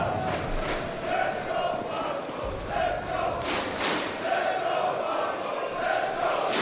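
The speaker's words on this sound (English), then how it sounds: "The chants that were supporting Ents last night have transferred over." Esports arena crowd chanting at IEM Katowice 2024 during a Counter-Strike match between Team Spirit and Team Falcons, a large audience roaring in a steady rhythmic chant that pulses through the whole stretch.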